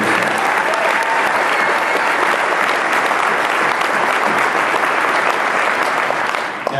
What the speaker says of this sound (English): we should really give him a strong round of applause